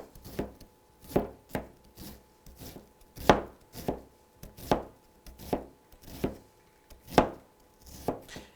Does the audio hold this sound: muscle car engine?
no